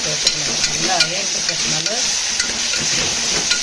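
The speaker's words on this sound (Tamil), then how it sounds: "இதில் கறிவேப்பிலையும் போட்டுக்கிட்டு நல்லா வதங்கிச்சுன்னா நல்லா இருக்கும்" Curry leaves sauté in a hot pan with a bright, continuous sizzle and crackle, punctuated by close stirring scrapes and small clinks.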